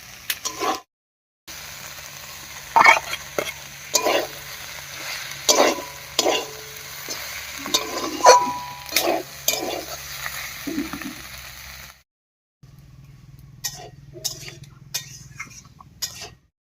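Soybean chunks and fried pointed gourd with ground nut paste being stirred in a pan, bursts of sizzling and clinking spatula scrapes against the metal, with brief silent gaps before the stirring resumes.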